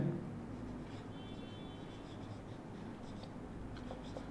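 A pen writes steadily on paper as a Hindi office memorandum is filled in. The scratching is faint and continuous under a low background hum, with no talking.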